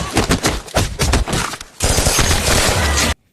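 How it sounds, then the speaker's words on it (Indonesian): Gunfire breaks out between armed men and Israeli soldiers in a film scene, with dense bursts of shots and booms crowding the whole stretch before the sound cuts off abruptly near the end. "terjadilah kontak senjata antara Polat dan tentara Israel yang ingin menangkap mereka"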